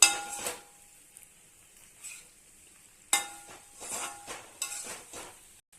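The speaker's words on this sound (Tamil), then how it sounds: "அதனால நல்லா மறுபடியும் கிளறி விட்டுறலாம்" A spoon stirs masala pasta in a pan, giving several scraping, clinking strokes in irregular bursts over a faint sizzle, close by and with no voices.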